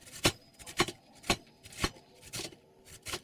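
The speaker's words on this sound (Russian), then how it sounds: "Вернее, нарублю топориком." Cabbage being chopped with a small hatchet on a board: six sharp, evenly spaced chops at a steady rhythm, close and fairly quiet with nothing else over them.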